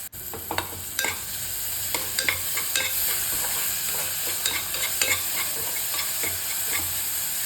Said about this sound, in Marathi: ते चांगलं 5 मिनिटं परतायचं आहे